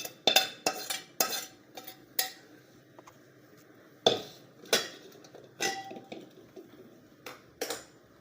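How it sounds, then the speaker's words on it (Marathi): Spicy fried shankarpali snacks are tipped and scraped onto a plate, giving a scattered series of sharp clattering clinks and scrapes with irregular gaps between them, close by and alone. "एका ताटामध्ये असं काढून घ्यायचं पूर्ण सगळं"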